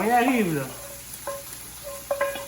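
A pound of Wagyu ground beef hits a hot pan for poutine and sizzles at moderate volume, with a brief voice at the start and occasional faint tones afterward.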